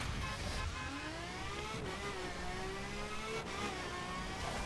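A Ferrari races in The Crew driving game, its engine revving up through gears with rising and falling whine, continuous and fairly loud with no talk.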